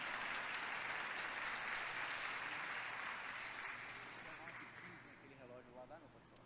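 A church congregation applauds together in a sustained, dense wash of clapping that fades gradually, with voices starting to speak over it toward the end.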